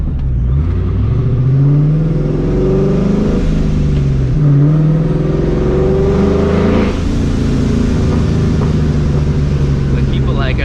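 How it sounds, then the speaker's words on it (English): Supercharged New Edge Ford Mustang GT V8 revs up and settles repeatedly, with rising and falling engine pitch and a whirring blower whine on top, loud and close; a voice is heard during the revs. "You can literally hear that blower just like spinning too."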